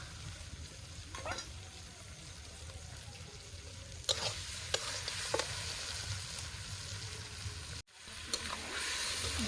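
Meat sautéing (kosha) in a pan outdoors in a garden gives a soft, continuous sizzle with a few stirring scrapes, fairly quiet and ending in a brief sudden drop.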